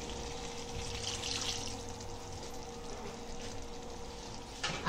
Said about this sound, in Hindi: अभी हम मसाले का पानी डाल रहे हैं।